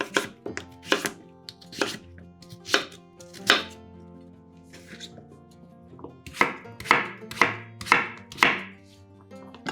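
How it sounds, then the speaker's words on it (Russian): A knife chops peeled pumpkin into small pieces on a board, sharp close thuds coming in an uneven series, sparse at first and then quicker in a run near the end. "Подготовленную тыкву нарезаем небольшими кусочками."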